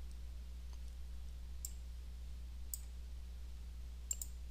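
A computer mouse clicks faintly in a quiet room, a few sparse, sharp clicks spaced a second or more apart, with a double click near the end over a low steady hum.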